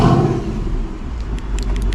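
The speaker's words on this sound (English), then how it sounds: "So you can rev your Mustang from the exterior" 2024 Ford Mustang GT V8 revving via remote start, a loud, near, deep rumbling engine roar held throughout the short moment, with no talking.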